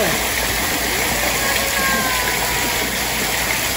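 Water poured from a dipper over a small child as a makeshift shower during a summer birthday gathering, a steady continuous gush and splash filling the whole stretch, with voices talking faintly underneath.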